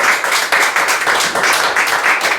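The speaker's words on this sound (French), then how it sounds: "Acclamez pour le Seigneur." A church congregation clapping and applauding for the Lord, dense rhythmic hand claps in pulsing waves, loud and close, with little else audible.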